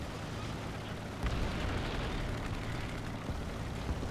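Artillery fire in War Thunder during a BMP-1 light tank match: a dull, rumbling blast lands about a second in, then sustained low roar and scattered faint pops continue beneath the battlefield ambience, with no talking.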